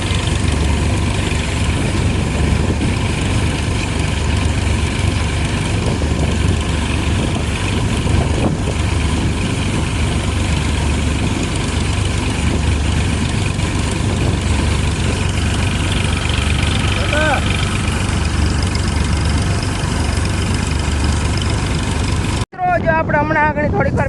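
A threshing machine runs steadily in a field, blowing and separating mung beans, a loud continuous engine drone with a whirring hum throughout, cut off abruptly near the end.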